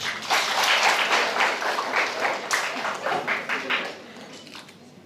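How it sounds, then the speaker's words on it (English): An audience claps for a university representative at a summer course certificate ceremony. The applause is full at first and then thins out to scattered claps before it stops. "Please give applause."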